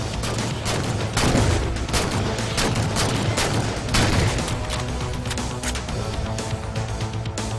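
Scattershot fire from Knight enemies in the Halo 4 Spartan Ops mission Core, loud dense bursts of rapid energy shots crackling and booming nonstop with dull explosions mixed in.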